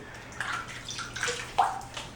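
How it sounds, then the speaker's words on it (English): Hot water runs from a tap in a bathroom sink before a shave, a soft, close splashing stream with a few brief surges. "add a little bit of hot tap water to my face"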